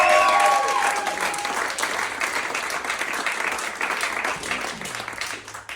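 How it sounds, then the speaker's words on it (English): Comedy club crowd applauding the lineup of comedians at a beachside venue, a loud, dense burst of clapping that starts at full strength and then holds steady before gradually thinning toward the end. "So you guys would give me a round of applause for the lineup of comedians tonight."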